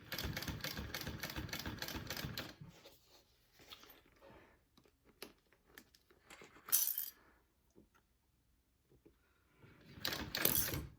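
A sewing machine stitches binding onto a backpack, running in a fast, close, rhythmic burst, then pausing for small handling clicks and rustles before starting again briefly near the end.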